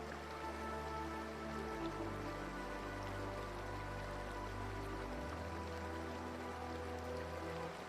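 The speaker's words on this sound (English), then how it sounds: "Two streams of water fall side by side from a height of about 35 meters." Twin streams of a secluded Bali waterfall drop about 35 meters side by side into a natural pool, giving a dense, steady rushing and splashing wash of water that continues without pause or voices.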